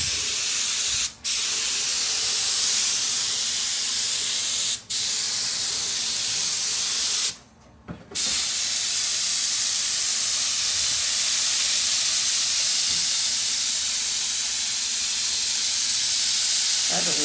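Glue sprayed from an aerosol can onto a rubber diaphragm during Jaguar MKII reassembly, a loud, close, sustained hiss broken by a few brief pauses early on before continuing steadily.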